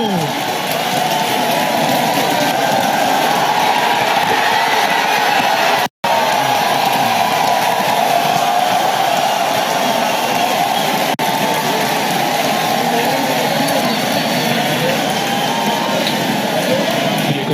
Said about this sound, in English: Falcon Heavy heading to space on our test flight.